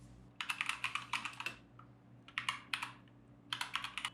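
Bursts of keystrokes clatter on a computer keyboard as an RMAN delete command is typed into a database console, in three quick clusters separated by short pauses, close and moderately quiet against a low steady hum.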